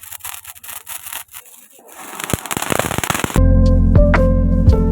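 Firecrackers burst for the Perunnal festival in a rapid, crackling string of loud pops that builds in density, then gives way abruptly to loud, steady music.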